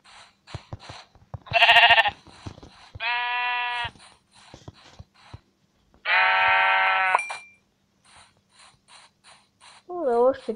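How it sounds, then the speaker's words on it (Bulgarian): Sheep bleating in the video game Minecraft, three loud harmonic bleats at moderate distance, separated by clicking mechanical game sounds and short pauses, ending with a warbling tone. "Овца."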